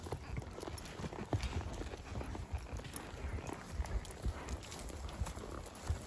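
Hooves of horses carrying riders while cattle are moved toward a gate on a forest gather, a steady busy clip-clop of several animals close by over outdoor background noise.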